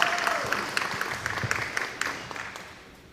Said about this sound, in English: He's going to get all the applause.